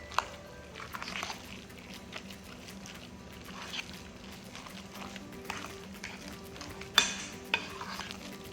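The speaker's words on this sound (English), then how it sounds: "Now let me mix up everything." Beet and potato salad being stirred and mixed in a bowl, with a utensil scraping and clinking against the sides in a steady soft rhythm and a louder knock near the end.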